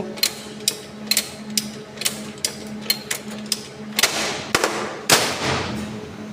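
Motor starter contactors in an MCC room switching a pump motor with a soft starter: a string of sharp mechanical clicks at an uneven pace, then two heavier clacks near the end, all over a steady electrical hum.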